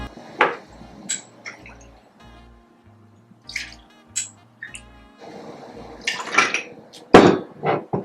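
Ice cubes clink into a glass and Lot 40 rye whiskey is poured over them, giving several sharp rattles and knocks spaced through the clip with a short liquid trickle.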